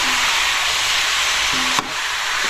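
Duck adobo sizzles and fries in a pan with a steady loud hiss, and a brief knock of the spoon comes as it is stirred.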